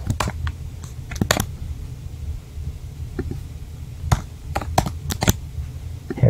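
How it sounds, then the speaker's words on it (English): Fingers typing on a computer keyboard to enter a word into a Python dictionary lookup, a quick cluster of crisp key clicks followed by scattered single taps, close and clear with no speech. "and then we would type France"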